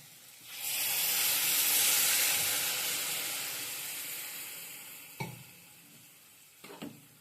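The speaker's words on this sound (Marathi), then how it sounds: "भाजी शिजण्यासाठी पाणी टाकायचं" Water hits a hot pan of cluster bean (gavar) curry with a sudden loud sizzle that slowly fades to a gentle hiss, followed by a couple of utensil clinks.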